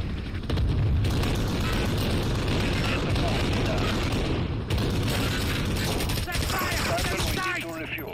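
Gunfire in the video game Call of Duty: Modern Warfare, with dense, continuous bursts of shots and explosions crowding close and loud throughout, and a voice briefly speaking under the battle noise.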